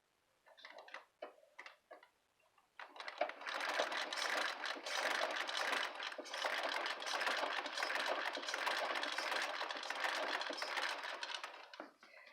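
A treadle sewing machine runs after a clunk repair, starting with a few scattered clicks and knocks before settling into a steady, fairly quiet mechanical whir and chatter that stops abruptly at the end.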